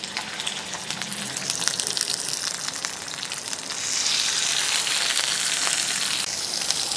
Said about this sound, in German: Und jetzt legen wir in das heiße Butterschmalz unsere Languste mit der Fleischseite nach unten.